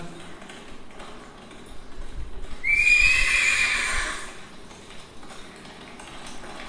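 A horse whinnies loudly for about a second mid-clip, with faint hoof clops in the background, in a scene from the Turkish historical drama Ertugrul Ghazi.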